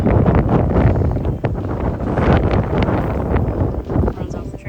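Heavy wind buffets the microphone in constant rumbling gusts, a low roaring texture throughout.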